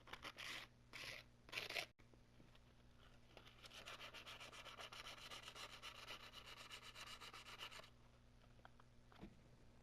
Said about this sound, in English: Let the sandpaper ride the knife.